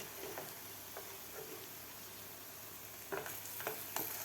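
Bottle gourd cutlets frying in a pan make a faint, steady sizzle that goes on without a break. A few light clicks and taps come near the end as the cutlets are turned, and no voice is heard.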